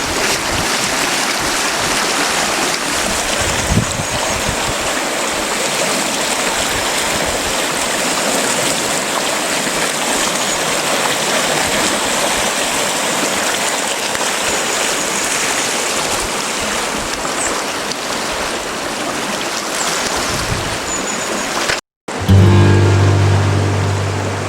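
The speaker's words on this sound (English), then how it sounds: "We've had a lot of rainfall overnight, and you can see just how fast flowing the river is." The River Ure runs fast and swollen after a night of heavy rain, a loud, steady rush of turbulent water that fills the whole stretch close by. It breaks off for an instant near the end before carrying on.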